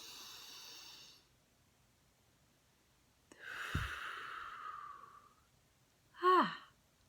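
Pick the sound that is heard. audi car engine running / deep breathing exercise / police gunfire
deep breathing exercise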